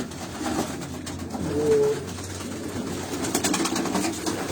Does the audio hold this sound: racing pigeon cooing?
yes